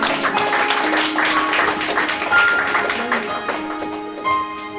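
Church congregation applauding and cheering during a French-language Sunday service, a dense steady wash of clapping with scattered voices, fairly loud throughout with a few sharper swells.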